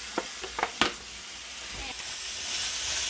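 Garlic sizzling in a pan over lowered heat, a faint steady hiss building gently, with a few sharp clinks of stirring at the start.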